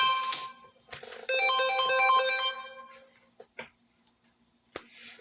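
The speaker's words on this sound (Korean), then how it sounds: "전화가 제가 무음을 해놨어야 되는데 전화가 왔네요" A mobile phone ringtone plays a repeating melodic tune in the middle of a talk about native honeybee queen mating. It rings loud and close for about two seconds, then short clicks and handling noises follow.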